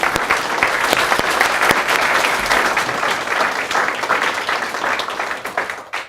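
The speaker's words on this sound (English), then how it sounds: "let's give them a round of applause" A crowd at a school board meeting claps steadily, a dense wash of applause with sharp individual claps, holding strong for several seconds before tapering off at the end.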